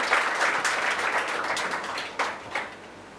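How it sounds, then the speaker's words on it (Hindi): An audience at a student talk applauds to welcome a guest, a burst of clapping that gradually thins out, with a few late, isolated claps near the end. "हम जोरदार ताली से जो है उनका स्वागत करते हैं।"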